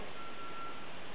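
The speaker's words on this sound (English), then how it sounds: "That's the fire truck?" A fire truck's reversing alarm beeps in a neighborhood, a few thin steady tones repeating over a continuous background hiss, faint and distant.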